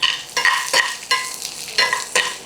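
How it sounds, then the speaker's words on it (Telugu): Green chillies frying in a pan for a gourd chutney, with a soft sizzle under repeated scraping strokes of a spatula, close and moderately loud with no talking. "పచ్చిమిరపకాయలని కొంచెం వేగనివ్వండి"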